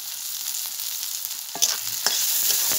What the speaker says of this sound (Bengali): লাল লাল করে ভেজে নিই